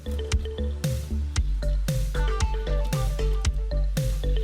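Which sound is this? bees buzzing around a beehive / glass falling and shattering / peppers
peppers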